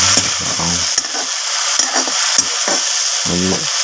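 Curry leaves hit hot oil in a village kitchen, producing a loud, crackling sizzle that holds steady, broken by sharp spattering pops and short droning bursts.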